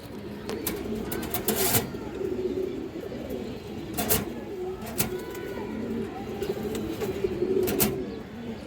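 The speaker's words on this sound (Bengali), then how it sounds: "প্যার ইন্ডিয়ান হাইফ্লা কালদম কবুতর আছে" Indian high-flyer Kaldom pigeons cooing close by, soft low repeated coos in an irregular rhythm over a quiet background, with occasional sharp clicks and knocks.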